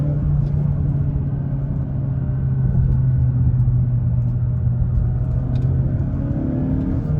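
A 2022 Mazda 3 hatchback engine pulls steadily under acceleration, heard from inside the cabin as a constant droning rumble with a faint rising whine and no talk.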